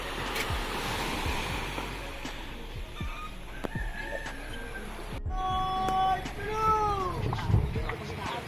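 Sea waves wash onto a shore as a steady surf roar with wind noise, while birds chirp and call near the end; faint voices can be heard in the background.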